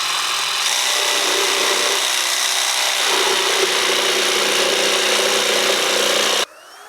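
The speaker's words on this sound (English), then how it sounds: "I was going to handsaw it, but I'm just going to use the jigsaw" A jigsaw cuts through sections of 2x4 or 1x6 wooden board in a loud, steady buzzing rasp that runs unbroken for about six seconds before it abruptly stops.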